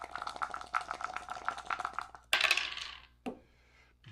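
Attack dice for the HeroQuest board game clatter across a table, a rapid rattling run followed by a sharp burst of tumbling clicks and one last knock, close and with no talk over it.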